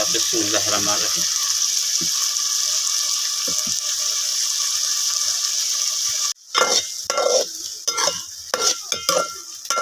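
Peas frying in a pan for a bitter gourd curry, a steady loud sizzle that breaks into stirring clatter and spatter partway through.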